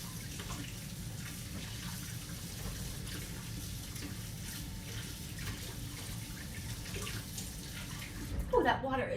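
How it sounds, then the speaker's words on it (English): Hot tap water runs steadily into a sink while a spatula is washed, a constant close rushing stream with a few clinks near the end. "Just gonna quickly wash my spatula that I had in the washer."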